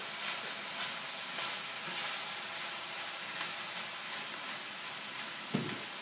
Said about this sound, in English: Letting that cook down just here a little bit.